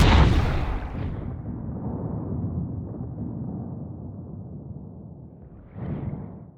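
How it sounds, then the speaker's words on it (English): A designed explosion effect layered from several elements: a loud, sharp initial blast that settles into a long rumbling decay, then a second whooshing burst swells near the end. "Here's my designed explosion, which incorporates elements of all three."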